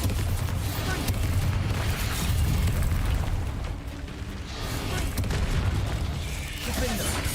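Bombarda spell explosion in Hogwarts Legacy, a loud sustained rumbling blast with crackling debris and continuous battle noise, dipping briefly before swelling again.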